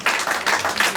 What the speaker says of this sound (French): nous applaudissons très très fort pour notre Dieu